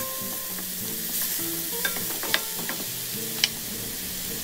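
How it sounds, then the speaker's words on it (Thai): Minced pork stir-fried in a wok with a splash of water for Thai basil lobster, a steady close sizzle with scraping stirs and a few sharp clicks of the utensil against the pan, no talk. "ผัดหมูสับและเติมน้ำลงไปเล็กน้อยเพื่อที่จะไม่ให้แห้งเกินไป"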